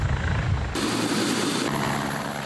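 A helicopter's engine and rotor drone continuously at close range, loud and steady, with no one talking.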